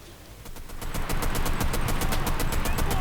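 An enemy-held tank in the World War II shooter Enlisted firing on the player: rapid, evenly spaced automatic gunfire, loud and sustained, rising in volume after the first half second with no talk.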